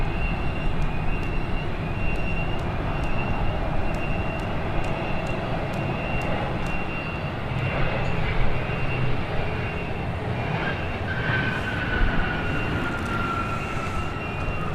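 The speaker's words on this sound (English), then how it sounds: "This is a Learjet 60 XR coming in." A Learjet 60 XR business jet landing at Dallas Love Field, a loud, steady jet roar with a whining engine tone that rises in pitch toward the end.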